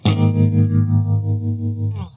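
A single clean electric guitar power chord with the added top string, run through compressor, reverb, tremolo and phaser, rings out and pulses steadily for about two seconds before being cut off.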